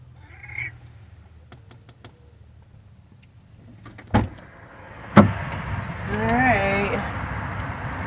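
Inside a camper van, a cat gives a short meow, then after a couple of door thumps lets out a longer, drawn-out meow close by, with a person speaking around it.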